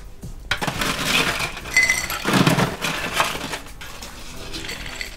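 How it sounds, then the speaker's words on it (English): Ice cubes clatter and clink into a glass while a spiced ginger cocktail is made, several loud bursts of rattling close by with no talk. "Fill this glass up with ice."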